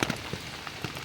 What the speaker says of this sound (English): The rain is coming right down